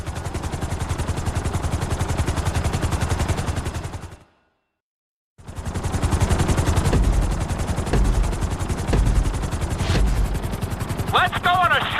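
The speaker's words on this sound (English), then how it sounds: "we're gonna put you in a helicopter for this lesson" A helicopter in Grand Theft Auto V thrums steadily with fast rotor chop and engine whine, loud and close, cutting out briefly to silence before returning with sharp bursts over it.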